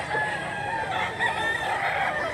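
A two-year-old yellow-legged gamecock of sweeter bloodline crows loudly and close by, one long drawn-out call that fills the moment with no voices over it.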